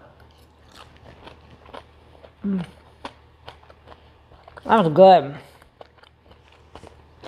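Crisp bites and chewing of a crunchy rice-batter shrimp crepe, heard as a short crunch followed by a louder run of crackling chews up close, with brief speech nearby.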